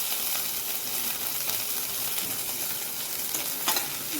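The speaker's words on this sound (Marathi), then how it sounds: "मिरची आणि लसूण छान फ्राय करून घेऊया" Green chilli and garlic frying in oil in a kadhai for methi bhaji, a steady loud hiss with occasional stirring scrapes and a brief clatter near the end, close, no voices.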